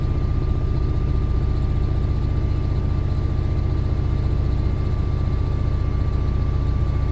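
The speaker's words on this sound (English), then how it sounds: "You can hear the rumble of that EMD engine" A steady, deep rumble from an EMD diesel locomotive engine hauling a heavy freight train in Train Sim World 3, loud and continuous, with no voices.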